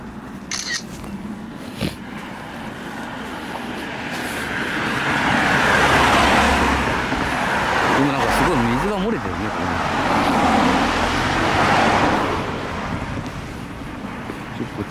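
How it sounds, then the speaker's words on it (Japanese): Steady road traffic streams past Mizoro Pond in Kyoto by day, vehicles swelling and fading in long overlapping passes with wind buffeting the microphone and occasional speech. "っちゃ交通量多いですね。"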